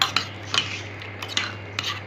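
A metal lid settles onto a cooking pot with several light, close clinks and rattles spread over about two seconds, and the room is quiet around them.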